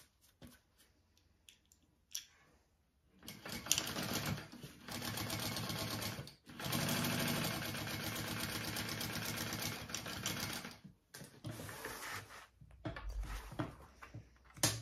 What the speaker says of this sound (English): and then I'm going to top stitch